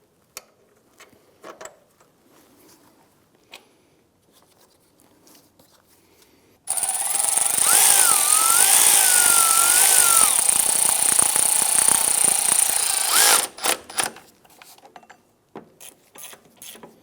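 A power tool driving a lower exhaust manifold bolt on a 1997-2006 Jeep Wrangler, a loud whirring burst lasting about seven seconds, framed by quiet clicks and clanks of tools before and after.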